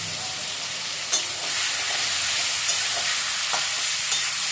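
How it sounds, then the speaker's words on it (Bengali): Fish frying in hot oil in a wok while being stirred, giving a steady broadband sizzle with a few brief scraping clicks from the stirring, fairly close and with no voices. "তেলটা দিয়ে দিয়ে এবার প্রথমে আমি মাছগুলা ছেড়ে দিই।"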